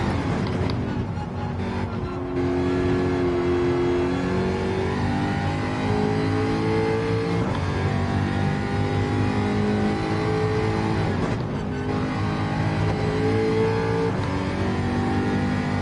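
A Jaguar race car engine in Gran Turismo 7 revs steadily and loudly throughout, its pitch rising and falling through gear changes with a continuous close drone.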